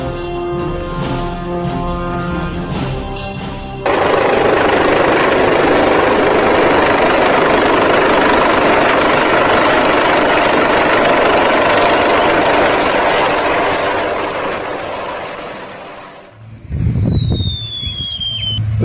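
A helicopter roars loudly and steadily at close range, a dense broadband whine with a high squealing tone that holds for many seconds before fading, after a brief stretch of other sound.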